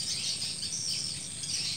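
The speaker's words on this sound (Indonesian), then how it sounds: "Sama ni jangkrik masih ni." Dense, steady high-pitched cricket chirping fills the night air without pause while night fishing after rain, over a low background rumble.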